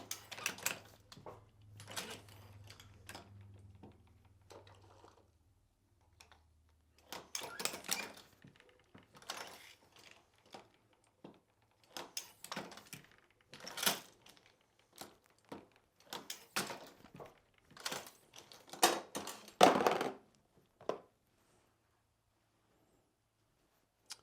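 A Dillon SL900 shotshell reloading press working through its crimp stations, with irregular mechanical clunks, clicks and rattling strokes in bursts and quiet gaps between them.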